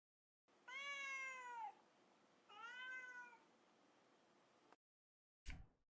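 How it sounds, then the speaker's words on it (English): A cat meows twice, two long drawn-out calls close by and clear, with a short gap between them, followed by a brief click; no one speaks. "Just random cat sounds, that's cool."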